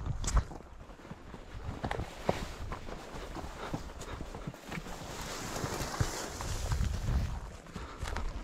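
Horse hooves walking downhill along a narrow, overgrown trail into a hollow, a soft irregular clip-clop of steps over steady outdoor rustle, fairly close and moderately loud with no talk.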